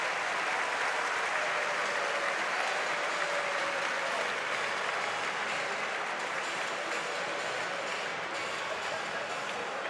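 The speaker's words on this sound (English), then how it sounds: "they get him up on his feet, and the entire arena applauds" A college basketball arena crowd at Cincinnati vs Dayton applauds as an injured player is helped to his feet, a broad, steady roar of distant clapping filling the hall throughout.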